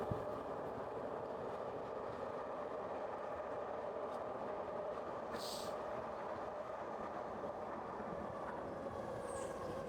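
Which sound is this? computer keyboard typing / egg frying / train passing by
train passing by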